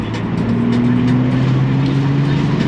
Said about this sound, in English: now that we're out of that little park, I can actually drive the car